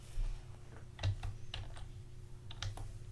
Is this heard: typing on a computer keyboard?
yes